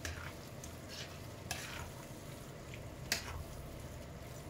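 Minced meat with pepper and tomato paste, cooking for Kayseri yağlaması, is stirred in a pan, giving a quiet sizzle with occasional scraping strokes and a couple of sharper utensil knocks.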